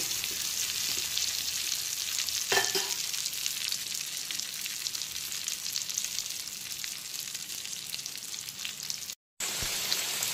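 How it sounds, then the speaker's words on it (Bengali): Potato pieces frying in hot oil over a full flame, a continuous loud sizzle with a brief stir or scrape and a short dropout near the end, no voices. "এখন কিন্তু আলুগুলো দেখতেই পাচ্ছ হালকা বাদামি কালার করে ভেজে নিয়েছি"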